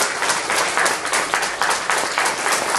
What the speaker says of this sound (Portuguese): Eu gostaria que nós aplaudíssemos a irmã Aparecida.